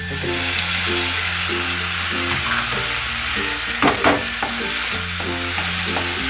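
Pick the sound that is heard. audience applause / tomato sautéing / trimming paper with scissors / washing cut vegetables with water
tomato sautéing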